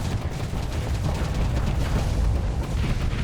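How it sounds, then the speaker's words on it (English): A spaceship's main cannons charging and firing in a video game: a loud, continuous low rumbling roar with crackling texture, sustained evenly for a few seconds without any talking. "Charging up my main cannons"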